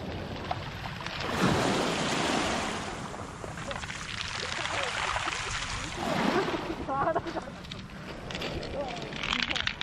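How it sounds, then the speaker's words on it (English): Waves washing onto the pebble beach at Nice, France, with a steady rushing surf and swells rising and falling in loudness, heard fairly close, without talk. "Just enjoying the beach here"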